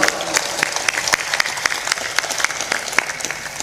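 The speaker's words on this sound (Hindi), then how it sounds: "जोर से बजाओ ताली" An audience claps together at a religious discourse, a loud sustained burst of dense, close applause.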